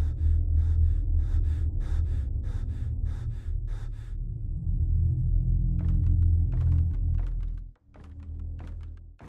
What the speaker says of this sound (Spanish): Había alguien respirando